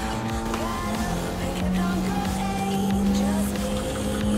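Race car engine in the VR racing game Gran Turismo Sport, a loud steady drone whose pitch climbs and shifts between gears, with faint tire squeal, continuous throughout with no talk.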